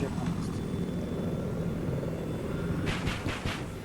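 Helicopter rotor and engine drone in the game Battlefield 4, a steady rumbling thrum throughout with a brighter chopping burst near the end, heard under occasional voice.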